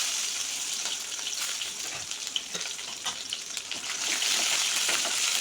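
Fennel, cumin, green chilies and small onions tempering in hot oil for a spinach dish: a steady, fairly soft crackling sizzle with faint scattered pops, rising slightly toward the end, no talk.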